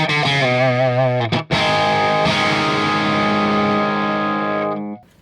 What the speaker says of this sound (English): As you turn the gain up, you'll start to hear the real characteristic of the gain mid-range.